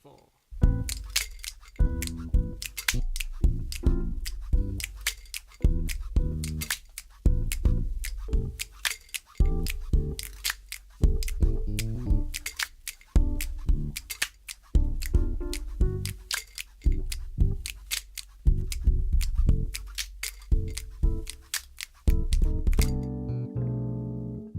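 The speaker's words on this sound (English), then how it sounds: "I added some organ and bass guitar, as well as some more body percussion like claps and stuff." Song built from painting-tool sounds with organ, bass guitar and body percussion claps, a steady rhythmic loop of sharp percussive hits over low bass and organ tones, loud and close, ending abruptly.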